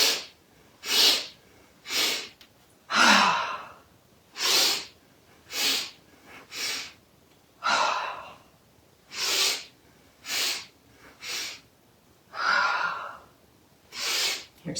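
Breath of joy yoga breathing, a string of about a dozen forceful, rhythmic breaths close to the listener: quick sharp inhales and loud rushing exhales at a steady pace, with no talking.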